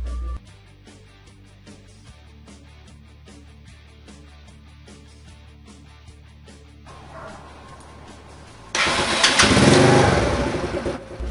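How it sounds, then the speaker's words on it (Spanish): Motorcycle being started with the electric start button after a repair: a starter motor churns briefly at low level, then the engine catches and settles into a loud, close, steady idle. "la moto queda encendiendo de nuevo desde el botón eléctrico"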